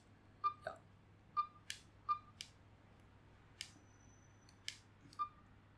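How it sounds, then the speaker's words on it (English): A fake refurbished Galaxy S7 Edge phone gives faint, sharp clicks and rattles when tapped, about a dozen quiet irregular ticks in a near-silent room. "if I try to tap over here, it makes noise, which is completely noticeable"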